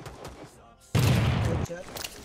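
Gunfire in a soldier war video game: a short, loud burst of rapid automatic shots lasting under a second, preceded and followed by quieter game background sound.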